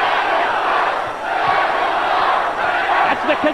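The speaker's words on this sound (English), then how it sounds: "The consensus opinion of the crowd here at the TNA Asylum. Let them fight." Wrestling crowd at the TNA Asylum chanting in unison during a brawl, loud massed voices swelling and falling in repeated phrases, with a few sharp hits and shouts near the end.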